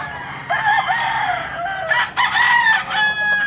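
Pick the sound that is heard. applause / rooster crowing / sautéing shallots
rooster crowing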